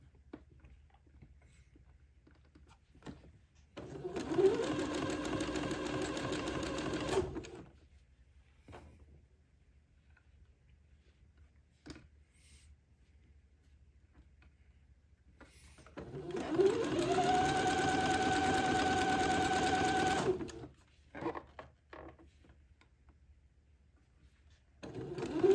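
A sewing machine slowly stitches small lace onto a baby daydress, running in two steady, close whirring bursts of several seconds each, separated by quiet pauses with light handling sounds; no talking.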